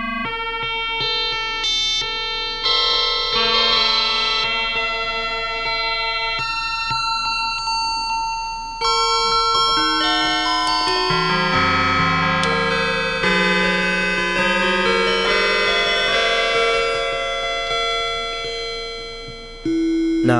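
A Waldorf Blofeld synthesizer's sine wave oscillator is swept around, producing loud, sustained electronic tones that step and glide through changing pitches for about twenty seconds, with no voices.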